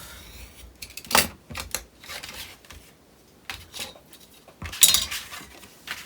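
Scissors snip a piece off paper in a few crisp cuts, with small clicks and metallic clinks spread across a few seconds in a quiet room.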